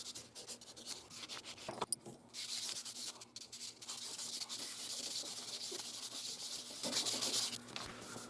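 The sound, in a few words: sanding a walnut knife handle with 400 grit sandpaper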